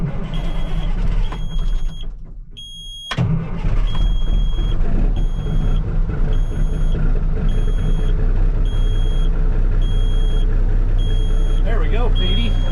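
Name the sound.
old truck Petey engine starting and running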